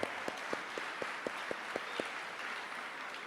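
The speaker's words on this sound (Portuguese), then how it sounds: "Uma salva de palmas para ela." A church congregation breaks into a short round of applause for a woman, about eight sharp, evenly spaced claps in quick succession standing out over a faint, hissy room background before fading away.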